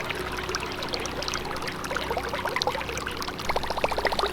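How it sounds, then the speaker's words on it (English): A topwater fishing lure plops and splashes across the water surface in quick bursts, with a run of rapid gurgling blips near the end over steady background wash. "It's kicking up that water, making that little plopping sound."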